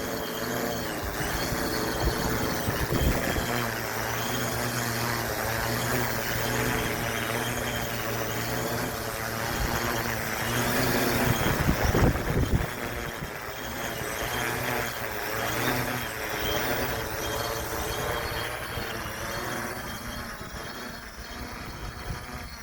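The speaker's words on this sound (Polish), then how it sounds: "dron jest zawieszony na około 2 metrach" A drone holds a steady hover about two metres above the ground, its rotors giving a continuous, fairly loud whir that swells briefly and then settles, with no voices.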